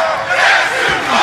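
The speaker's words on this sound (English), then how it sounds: "That crowd, man." A wrestling arena crowd roars loudly in a dense, sustained wall of chanting and cheering, filling the space continuously with no pause.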